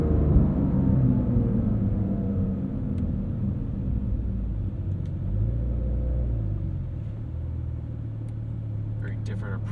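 A 2023 Porsche 911 Dakar cruises at about 42 mph, its engine rumbling low and steady with slight swells as manual gears change. A voice talks over the engine noise.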